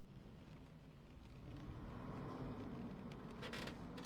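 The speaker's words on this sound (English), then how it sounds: "But with The Thing, the wind is constant." Constant wind ambience from the film The Thing: a low, steady rushing roar that builds slightly and never drops out, with faint creaks and airy gusts near the end and no voices.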